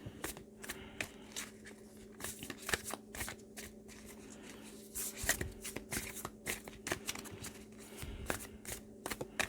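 Oracle cards, including a Moonology deck, are shuffled by hand in a steady run of crisp, riffling flutters and soft slaps. It is close and fairly quiet, with no talking.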